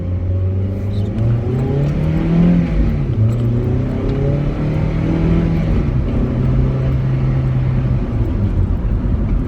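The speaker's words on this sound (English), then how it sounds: "Last little acceleration for the video." A 2000 Toyota Celica GT accelerates hard from inside the car, its engine note climbing steadily through the gears with brief dips at each shift, loud and continuous throughout.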